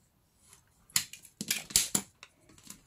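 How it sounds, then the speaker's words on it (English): Paper is cut along a ruler to straighten the edge of a collage sheet: a handful of short, crisp cutting strokes come in quick, uneven bursts, close and clear, with quiet gaps between them. "you can take a ruler and just cut with a ruler your paper to the straight position."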